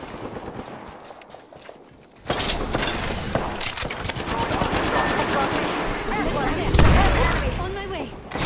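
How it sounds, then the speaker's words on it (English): Automatic gunfire in Apex Legends erupts suddenly after a quieter stretch of clicks and mechanical rattles, then keeps up a loud, sustained barrage with mechanical clatter and voices over it. "Getting shot at!"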